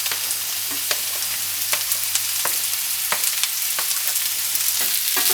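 Onions spread on a tray sizzle as they fry, a steady crackling hiss with frequent sharp pops and a low hum underneath, no voices.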